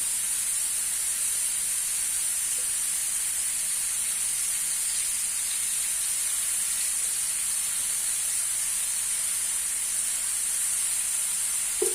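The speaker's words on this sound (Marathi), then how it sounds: "फ्राय होऊ द्या थोडा कांदा शिजू द्या" Chopped onion fries in oil in a pan, giving a steady, even sizzling hiss that carries on unbroken with no talking.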